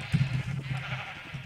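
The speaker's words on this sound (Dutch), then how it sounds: "Dit zijn allemaal witte schapen." Sheep in the Minecraft video game bleat in short, wavering calls, fairly faint and steady against a quiet backdrop with no talking.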